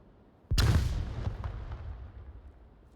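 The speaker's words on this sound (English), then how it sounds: "Are throwing a flashbang" A flashbang grenade goes off in the VR shooter Onward: one sudden loud bang after a brief quiet moment, followed by a booming echo that fades away over the next two seconds.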